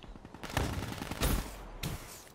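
Loud bursts of gunfire in Call of Duty Black Ops 3, three clustered volleys with brief gaps between them, close and harsh, with no one talking.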